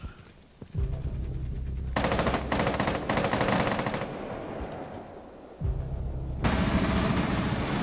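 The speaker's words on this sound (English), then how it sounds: "Are they just shooting in from outside?" Gunfire in Rainbow Six Siege on the Chalet map: several rapid automatic bursts, loud and close, separated by brief quiet gaps, ending in a sustained stream of shots.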